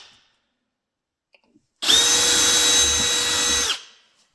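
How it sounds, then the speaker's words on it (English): A power drill whirs at high speed in one steady, loud burst of about two seconds, then stops; near and alone. "The drill."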